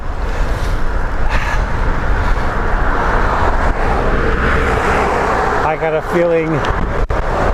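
Heavy wind buffeting from cold headwinds on a road bike ride, a loud constant rush close to the microphone, with a voice briefly speaking over it near the end.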